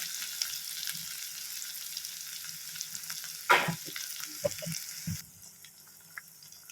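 Onions frying in a pan for egg rice give a constant hiss with a louder clatter midway, then the sizzle drops noticeably quieter near the end.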